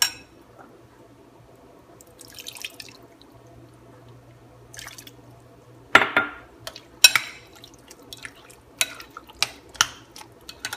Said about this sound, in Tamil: கொஞ்சம் தண்ணி ஆட் பண்ணிக்கலாம்.